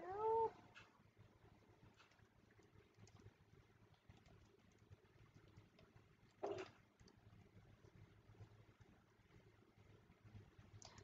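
A Minecraft cat gives two soft, short meows, one at the very start and another midway, heard faintly alone over quiet game ambience.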